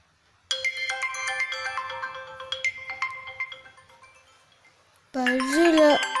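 An incoming-call ringtone chimes on a phone during a church Sunday school skit, a clear melodic tone playing for several seconds, followed by a voice speaking.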